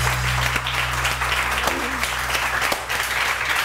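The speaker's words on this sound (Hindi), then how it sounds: "तहरीम फैसल के लिए बहुत सारी तालियां दी।" Audience applause at a Hindi-Urdu comedy stage show, a thick continuous wash of clapping from a large crowd with a low steady hum beneath it, sustained evenly from start to finish.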